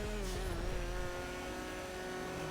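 Race car exhaust from a GTA Online video game car drones loudly and steadily throughout, a continuous engine roar with a slight rise and fall in pitch, with no talking.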